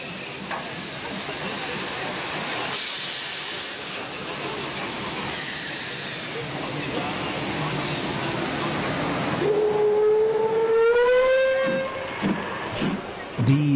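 A 1959 Deutsche Bundesbahn steam locomotive, number 23 105, hisses loudly for a long stretch, then its whistle sounds in a sustained, wavering blast near the end.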